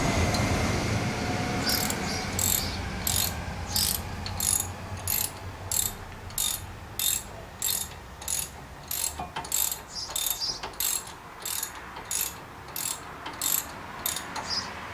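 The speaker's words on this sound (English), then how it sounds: "So pull the bolts up." A ratchet wrench loosens brake caliper bolts on a Honda Civic MK8, giving a long series of evenly spaced, sharp clicking bursts, close-up and clear against a quiet garage background.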